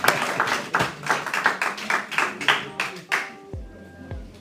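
A small audience claps at a book presentation in a public library. Distinct, fairly quick claps come in an uneven rhythm, then stop abruptly, and a few faint tones follow.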